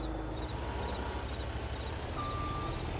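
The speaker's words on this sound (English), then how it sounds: "We'll go ahead and get this little skid steer unloaded." Skid steer being unloaded from a truck on a farm in Farming Simulator 22: a steady low engine drone runs throughout, with a long electronic tone and high beeps sounding partway through.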